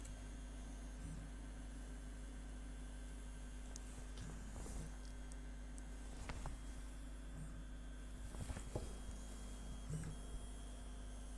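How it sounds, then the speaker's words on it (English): An Easythreed X1 Mini 3D printer runs a print, giving a faint, steady motor whine and hum with soft, irregular clicks and shifts as the head moves. "I wouldn't say it's the fastest printer I've ever used, but it is the cheapest."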